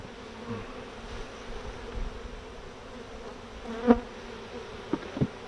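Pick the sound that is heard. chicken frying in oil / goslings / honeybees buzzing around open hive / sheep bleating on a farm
honeybees buzzing around open hive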